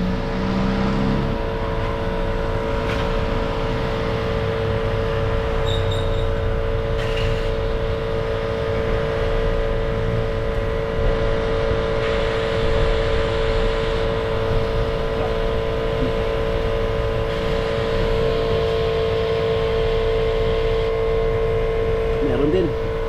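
A Mazda 3 engine with faulty exhaust valves runs at a steady idle with a droning, boat-like hum, loud and continuous throughout with no break.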